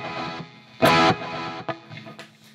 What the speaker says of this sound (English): And then I've got a dual delay thing going on.